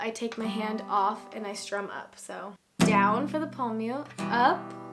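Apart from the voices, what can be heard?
No everyday noise stands out behind the speech.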